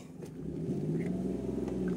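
A car driving along a road in the Churah valley, its engine giving a steady low rumble that grows slightly louder and holds even throughout, with no talking.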